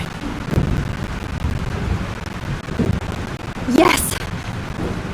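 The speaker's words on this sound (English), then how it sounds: "This storm is real." Thunderstorm with rain in the video game Life Is Strange, a dense rumbling wash of storm noise with a rising rush of wind or thunder near the end, while a character speaks briefly.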